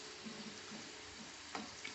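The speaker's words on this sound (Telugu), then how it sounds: "మనం అన్నీ ఇట్లా ఫ్రై చేసుకోవాలండి." Gavvalu, small curled dough snacks, frying in hot oil: a soft, steady sizzling hiss with faint bubbling and a couple of light clinks of a utensil, quiet and close, with no voices.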